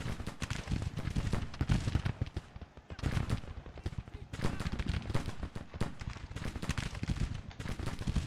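Dense artillery booms and rolling rifle fire fill a Grand Tactician battle in 1863. The shots stay continuous and fairly faint, layered over one another as far-off volleys that never let up.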